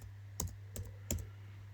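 Quiet typing on a computer keyboard: a few separate clicky keystrokes in short clusters over a steady low hum, with no talking.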